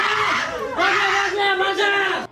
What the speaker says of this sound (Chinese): 一有余震，马上尖叫，趴下躲避。